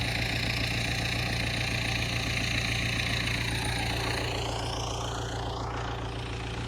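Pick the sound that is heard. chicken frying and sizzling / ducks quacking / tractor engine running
tractor engine running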